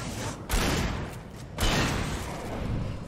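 A heavy gunshot in the Alan Wake game booms out loud, followed by a second blast about a second later. Each shot leaves a dense, rumbling roar that lingers without fading away.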